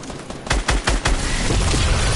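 Fortnite gunfire: a quick burst of four or five sharp, loud shots, then a dense continuous clatter of firing that carries through to the end.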